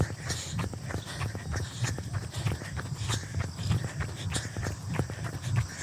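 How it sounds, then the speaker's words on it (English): A runner's footsteps patter steadily and quickly while running downhill outdoors, a continuous rhythmic beat of close footfalls with no talking. "I am going downhill, so don't listen to my footsteps."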